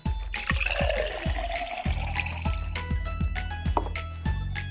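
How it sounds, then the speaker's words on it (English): Water poured into a toy kettle during doll pretend play, heard as a steady trickling, dripping stream with repeated small knocks and plastic clatter throughout, fairly close and with no talk. "Let's add some water."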